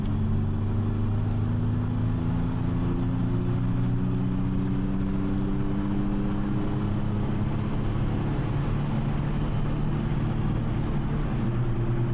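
An Audi 100 C3 with a 1.9 TDI diesel engine accelerating steadily, its low rumbling drone climbing in pitch over several seconds, close and continuous with no talking.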